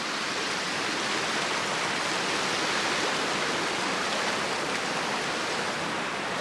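Waterfall at Heber rushes in an even, unbroken hiss of falling water, close and steady throughout with no voices.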